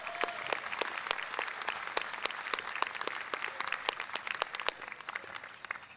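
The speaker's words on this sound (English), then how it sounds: "Let's give them all a big round of applause." A university convocation crowd gives a brass quintet a full round of applause, dense continuous clapping that fills the hall evenly and stays steady throughout.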